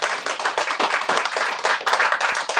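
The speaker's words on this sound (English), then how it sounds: "Again, round of applause." Dense round of applause from an audience at the close of an evening discussion event, steady crowded clapping sustained for a few seconds with no voices over it.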